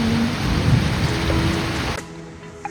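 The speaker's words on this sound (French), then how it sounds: "Ça y est, c'est la tempête." Heavy rain pouring during a thunderstorm, a dense loud hiss of rainfall with low rumbling underneath that cuts off abruptly near the end.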